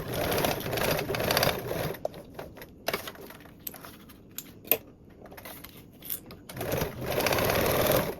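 Domestic sewing machine basting fabric for a duffle bag, bursts of rapid rattling stitching at the start and end with short stop-start runs and clicks between, close and clear with no talking.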